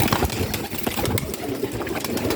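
Performer pigeons cooing amid a busy, noisy outdoor background, with soft repeated coos and rustling close by.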